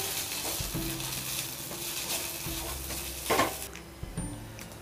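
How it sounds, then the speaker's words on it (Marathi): Ginger garlic paste sizzles with browned onion in a pan for a Modak curry, a steady close frying hiss broken by stirring scrapes and a louder stir midway. "एक छोटा चमचा भरून मी आलं लसूण पेस्ट घालते. ती सुद्धा व्यवस्थित ह्या कांद्यावर परतली गेली पाहिजे."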